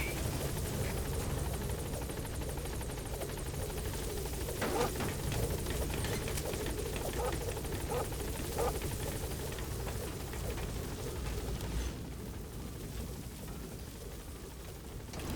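A B-Quad support helicopter in Metal Gear Solid V arrives at a landing zone, its rotor thumping loud and steady throughout, with a broad engine roar that eases slightly near the end.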